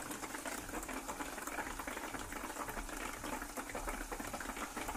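Tap water pours steadily into a bucket, driving a small generator in a hydropower demonstration; a continuous, even splashing rush fills the whole stretch at moderate level with no talk over it.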